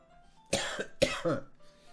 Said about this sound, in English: I really shouldn't do the coughing thing for the triple dots today